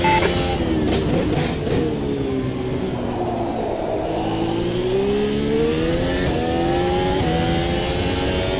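F1 car engine in the racing game Automobilista 2 revving and accelerating steadily through gears, its pitch climbing and dropping in a loud, continuous whine with no talk over it.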